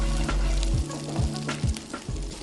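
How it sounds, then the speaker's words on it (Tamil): Shallots fry in a pan with a steady, close sizzle, punctuated by repeated stirring scrapes roughly every half second. "இப்போ வந்துட்டு இந்த ஷேலட்ஸ் பிரிஞ்சால் வந்து நல்லா ஃப்ரை ஆயிடுச்சு"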